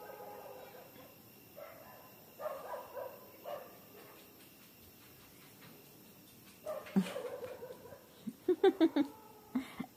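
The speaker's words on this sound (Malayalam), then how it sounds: "ഈ നേരമായി കഴിഞ്ഞാൽ അവിടെയൊക്കെ നായ്ക്കൾ ബഹളം വെക്കും" Several dogs bark at night, sharp clustered barks and a few yips coming in bursts, faint at first and then louder and closer toward the end, over a quiet background.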